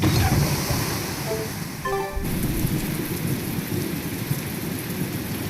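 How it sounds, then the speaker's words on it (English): Steady rain with a rumble of thunder from a Tales of Berseria town scene, broadband and continuous, starting heavy and settling into a constant downpour after a brief shift near two seconds, with no talk over it. "It's raining. Shouldn't you find shelter?"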